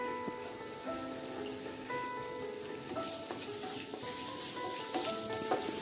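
A tablespoon of chopped garlic sizzles and crackles steadily in hot oil over a high flame, a close, continuous frying hiss with small pops, while preparing restaurant-style dragon chicken.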